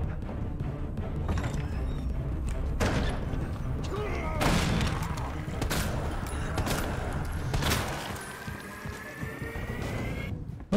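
Gunfire from the Colt handgun in the Resident Evil 2 Remake, 4th Survivor mode: repeated sharp reports in a dense, rumbling game soundscape, several bursts spaced across the stretch with a low continuous hum underneath.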